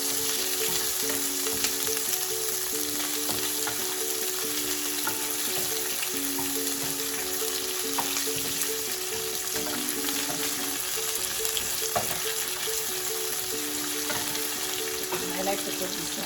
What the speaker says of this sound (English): We have to roast all of these things.